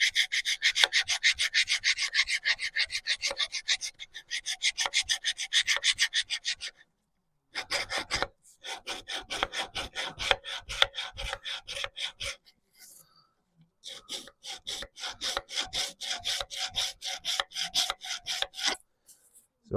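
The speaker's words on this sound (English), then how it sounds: "Right, file the keyway," Hand file rasping back and forth across the keyway of the flywheel shaft on a 1921 Lister TM stationary engine, steady rapid strokes in several bursts separated by short pauses, close and loud.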